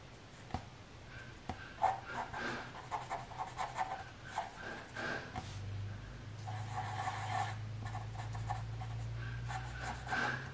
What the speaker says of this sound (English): color in the rest of the eye with our black marker